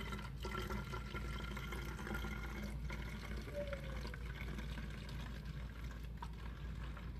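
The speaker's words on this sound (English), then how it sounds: "So then you take your bottle, and I just pour my multi-purpose solution in here." Farmasi Mr. Wipes multi-purpose cleaner solution poured into a bottle, a steady liquid rush running throughout at moderate volume, close by and with no talking over it.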